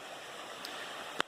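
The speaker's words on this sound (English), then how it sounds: "Waterfall." A waterfall and stream under a bridge on a Vermont trail make a steady broadband rush of flowing water, with a faint click and a sharper tap near the end.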